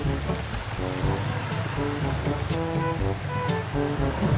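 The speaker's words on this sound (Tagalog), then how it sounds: "Lalakas ang ulan" Rain falls steadily at a beach with surf rolling in, a continuous hiss over low rumbling waves, with faint voices and a repeating musical tone underneath.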